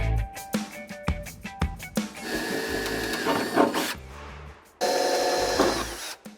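Power drill boring pilot holes in the boot lid of a Honda Del Sol, short whirring bursts followed by a longer steady run, close and loud, with pauses between.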